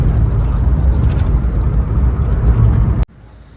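A Fiat Uno with a five-speed gearbox driving on a main road through wooded country, its loud, steady engine and road rumble filling the cabin before cutting off abruptly near the end.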